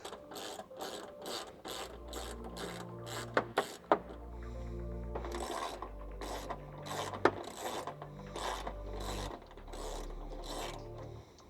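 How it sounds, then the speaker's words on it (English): A 10mm socket and wrench loosening grille bolts on a Toyota Tacoma, with rapid, close ratcheting clicks in repeated bursts broken by short pauses and a few sharper metallic ticks. "So I'll take a 10mm socket and a wrench"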